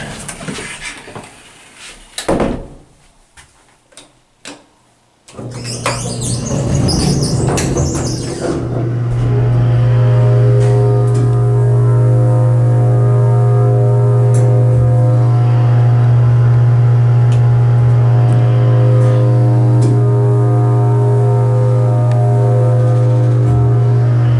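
Hydraulic elevator in the Pacific View Apartments building, Pacifica, California: a few clunks and door sounds, then a loud steady motor hum with whining tones that holds for the rest of the ride.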